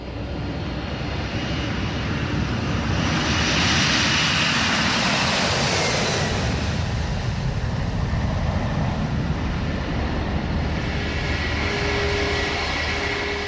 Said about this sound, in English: At last, it's the turn of an American Airlines Boeing 767 departure for London